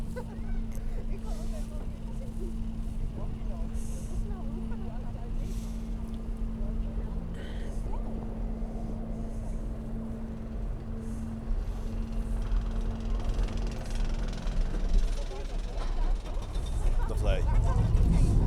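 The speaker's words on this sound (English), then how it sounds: "Front row ride on the Python. Classic 1981 Vekoma looping coaster." Ride on the Python, a classic 1981 Vekoma looping roller coaster at Efteling, heard from the front row: a steady low mechanical rumble and drone of the train, with a rising roar toward the end as it picks up speed.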